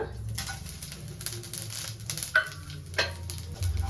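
Whole fennel, mace, cardamom, cloves and cinnamon roast in hot oil in a pan for a chicken curry, giving a steady soft sizzle and patter close by, with a few small pops and crackles and no talking.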